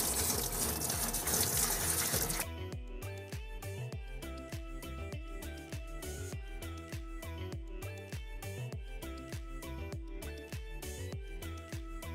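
Lukewarm water gushes while the inside of an R6 part is rinsed, first a loud rushing pour, then a steadier flow with rhythmic sloshing.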